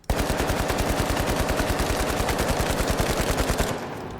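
An AKM rifle in the shooter game The Finals fires one long, loud, rapid automatic burst of evenly spaced shots before stopping abruptly, with no voices.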